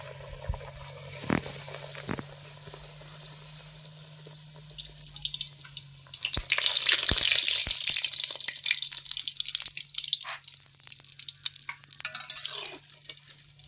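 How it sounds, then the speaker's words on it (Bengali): Steady crackling sizzle of puris frying in hot oil, with a low hum underneath and a few clinks; the bubbling swells in the middle. "তেল গরম হয়ে গেছে আমি এখন পুরি ছেড়ে দিচ্ছি"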